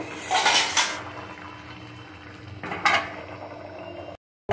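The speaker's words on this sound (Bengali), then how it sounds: "তোমাদের ঢাকনা খুলে আমি দেখাচ্ছি" A metal pot lid clanks as it is lifted off a simmering fish curry with vegetables in a home kitchen, two bright metallic clatters over a steady low bubbling background.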